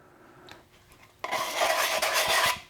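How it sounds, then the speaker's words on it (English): A dry, rasping scrape starts abruptly after a quiet moment and continues steadily for over a second, close by, as a sanding block is worked back and forth over a 3D-printed slip-casting mold. "I'm going to just basically take a sanding block and knock down any obviously high areas."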